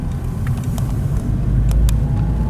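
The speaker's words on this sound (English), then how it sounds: "There's a lot of trucks" Heavy trucks and cars rumble steadily along a busy one-way riverside road in Bueng Kan, Thailand, a continuous low engine drone that swells slightly as a vehicle draws close, with no voices.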